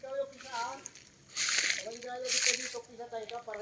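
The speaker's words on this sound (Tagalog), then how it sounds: "Dumating na rin ang tubig" Water arrives and splashes in two loud, sloshing bursts, with people talking before, between and after the rushes of water.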